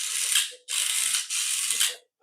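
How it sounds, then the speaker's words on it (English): Steering mechanism of a small RC Hummer toy car turning, giving three bursts of close, bright mechanical ratcheting and whirring separated by short pauses. "Let's just demonstrate that the steering does work."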